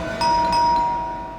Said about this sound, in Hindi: आज तो लगता है घंटी खराब करके छोड़ेंगे